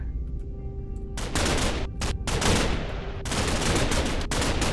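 Machine gun fire in the video game Minecraft comes in loud, dense rapid bursts, broken by brief gaps, close and harsh, with no talking over it.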